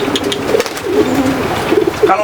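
Soft, low pigeon coos repeat a few times, close by, mixed with rustling and light background noise.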